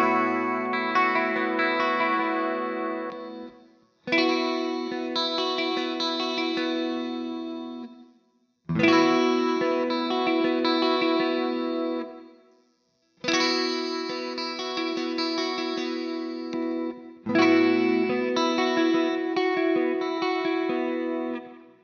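A Strandberg Boden Standard NX 7-string electric guitar played through effects, with five sustained chords ringing out loud and alone, each drenched in chorus, echo and reverb and separated by short gaps of silence.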